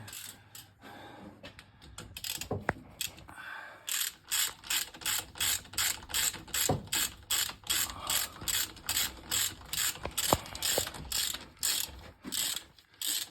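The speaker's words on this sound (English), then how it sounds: "This socket set that I'm using now" A ratchet socket set clicks rapidly in repeated bursts of cranking while work goes on on a Ford Zephyr hot rod, the close, sharp pawl ticks loud and steady with brief pauses between strokes.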